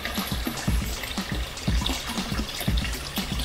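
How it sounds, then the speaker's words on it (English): Water draining from a turtle pond, a steady close trickle and gurgle with rhythmic low pulses as the flow spills out, continuous throughout with no talking. "Still draining the bottom pond, so got a couple more inches of water to go in there."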